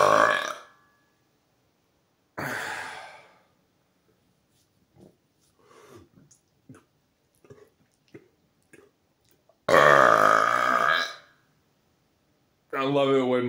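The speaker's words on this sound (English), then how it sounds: "I love it when my burps have that high tenor at the end." Several loud, close burps come in separate bursts, some long and rising to a high-pitched end, with quieter smacking and mouth noises in the gaps between them.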